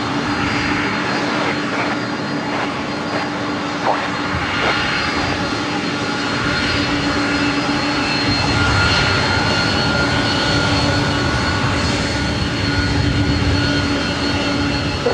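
Jet airliner engines roaring steadily at LAX airport, a loud, continuous broadband rumble with a sustained whine that stays close and constant, no talking.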